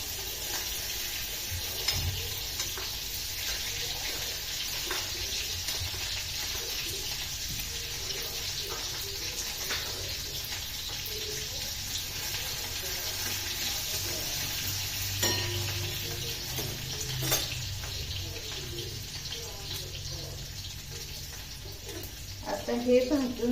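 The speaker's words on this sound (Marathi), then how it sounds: "चला आता तेल गरम झाले तर मी ह्यात लसूण टाकते." Garlic frying in hot oil with green chillies, a steady soft sizzle and occasional stirring clinks, heard close and continuing throughout.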